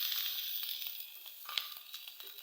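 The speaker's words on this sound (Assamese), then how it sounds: "ভাতটো ভাজি একদম ধুনীয়া হৈছে, কালাৰটো ভাজি আছোঁ" Leftover rice frying in a pan with chickpeas: a soft, steady sizzle with light crackles and occasional scraping stirs, quiet and close, no voices.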